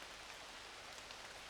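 Rain falls steadily in the Ace Attorney Investigations video game, a faint continuous broadband patter with no pauses, heard on its own without talk.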